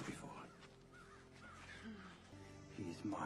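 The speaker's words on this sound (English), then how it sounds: "See the crows?" Crows cawing in a scene from the film Troy, harsh calls rising over a bed of music and ambient sound, with speech-like voices mixed in.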